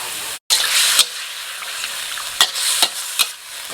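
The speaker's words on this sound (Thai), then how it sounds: "ผัดแบบแห้งๆนะครับ" Thai basil stir-fry being cooked dry with basil sauce, a loud bright hissing sizzle that cuts out briefly, then resumes with several sharp scraping stirs of the pan.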